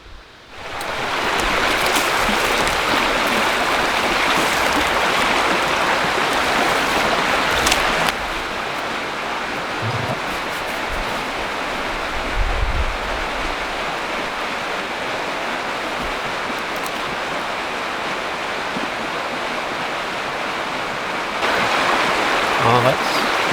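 A flowing creek while fishing outdoors, a steady close rush of running water that fills the whole stretch without pause, shifting slightly in tone, with occasional faint handling noises.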